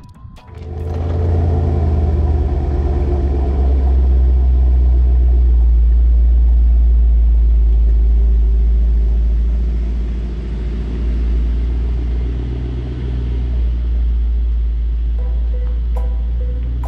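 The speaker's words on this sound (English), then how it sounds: "I'm just gonna back it into the driveway" A 2019 Mercedes-AMG GT 63 S idles and creeps in reverse into a driveway, its engine a loud, steady, deep rumble that holds for the whole stretch with a slight dip midway.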